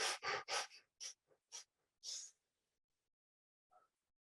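A run of rapid, forceful breaths in a breathing exercise, about seven sharp puffs close and loud in quick rhythm, then a pause and one faint final exhale.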